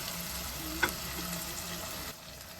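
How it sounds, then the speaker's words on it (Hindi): Chopped tomatoes fry in a pan for a ridge gourd (turai) curry, giving a steady, soft sizzle with one small click of a utensil partway through and no voices. "थोड़ा सा मैं टमाटर को गला लूँगी। चलें, टमाटर हमारे अच्छी तरीके से भुन गए।"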